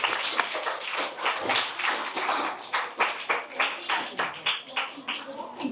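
A school audience claps for a student during an Ayurveda and Siddha awareness program, a steady run of fairly close, rhythmic hand claps lasting several seconds, with a voice speaking over it.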